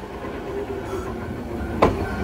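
Train running in Osaka, a steady close rumble and rattle of carriages with a brief sharp clack near the end, and faint voices underneath.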